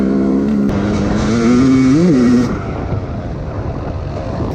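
A dirt bike engine on a muddy trail in the Akatarawa hills, a loud close motor drone that rises in pitch around two seconds, then drops away to rougher, quieter running.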